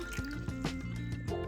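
A measured cup of water is poured into a mixing bowl for paper mache paste, a short close trickling, gurgling fill with splashy drips.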